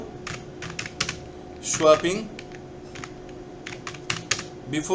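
Code is typed on a computer keyboard, with rapid, irregular key clicks close by and a brief burst of louder clatter in the middle, over low room hum.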